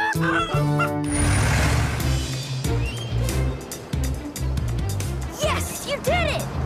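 A voice imitates a chicken clucking in a series of choppy, squawky bursts, loud and close, mixed with music and other voices.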